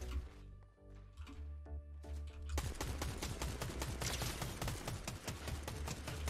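Gunfire in Fortnite: a few scattered shots over a musical game soundtrack, then rapid sustained automatic fire, dense and loud.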